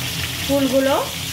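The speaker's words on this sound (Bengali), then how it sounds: "তেল গরম হয়ে গেছে, ফুলকপিগুলো ছেড়ে দেব।" Cauliflower florets dropped into hot oil for a Bengali vegetable khichuri, giving a short bright sizzle with a faint stir over a steady background hiss.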